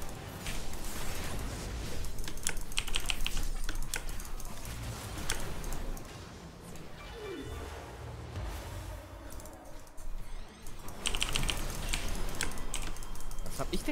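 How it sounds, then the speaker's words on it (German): Computer keyboard clatter during a League of Legends session. Dense clicking bursts of keys being struck run throughout, heaviest at the start and again near the end, under faint background voices and game noise. "Einfach mit der ganzen Hand auf die Tastatur geschlagen."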